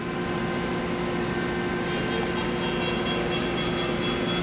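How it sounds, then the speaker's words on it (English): A Mori Seiki SL-253B CNC lathe with high-pressure coolant runs its spindle at 1000 RPM, giving a steady, even mechanical hum with faint tonal whine, constant in level and alone. "now we're gonna run it. That's 1000 RPM."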